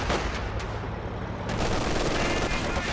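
Rapid, continuous light machine gun fire from Grenadiers in a strategy video game, a dense loud fusillade of overlapping shots with crackling bursts, unbroken throughout and without talk.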